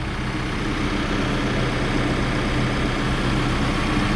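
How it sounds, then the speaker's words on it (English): A 2013 Case 590SN 4x4 loader backhoe sits idling, its diesel engine holding a steady, loud, low rumble without change throughout, and no voices over it. "I will just let you listen to the motor now."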